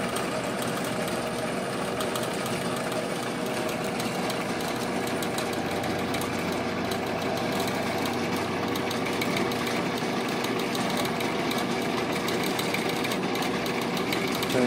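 A power drill bores through a small bead, giving a steady, loud motor whine that runs unbroken for the whole stretch with no pauses.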